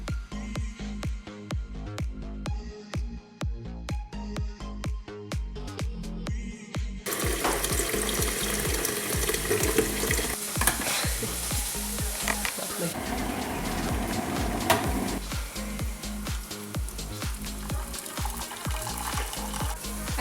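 Raw chicken pieces fry in a pan in a student kitchen, a steady broadband sizzle that grows louder and denser partway through, with faint stirring and clatter mixed in.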